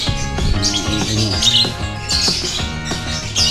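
Many birds chirp and squawk at once, a busy overlapping chorus of calls close by.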